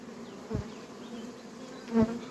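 A steady low hum of honeybees buzzing nearby, with a couple of brief louder thumps breaking through the drone.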